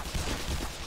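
A short burst of enemy gunfire in the video game Black Mesa, a rough, rattling volley lasting under a second with no voices over it.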